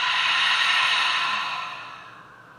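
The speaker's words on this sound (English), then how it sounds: "Exhaling audibly through the mouth." A long audible exhale through the mouth in ujjayi ocean-breath style, a soft airy hiss that starts full and slowly fades over a couple of seconds, heard alone and close.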